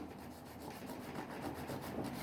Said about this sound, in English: when you're buffing, buff one direction